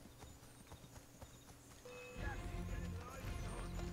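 Horse hooves clip-clopping in Assassin's Creed 3, steady hoofbeats that grow louder and heavier midway, with a short whinny and some game sounds layered in.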